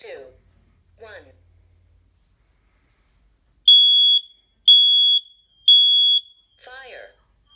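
A Kidde P4010ACSCO combination smoke and carbon monoxide alarm runs its test, with three loud, piercing sustained beeps in even succession between short spoken voice announcements from the unit.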